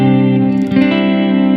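A guitar through an Earthquaker Devices Avalanche Run delay and reverb pedal, set with controls at noon, sounds a loud sustained chord that swells into a swirly, modulated delay tail.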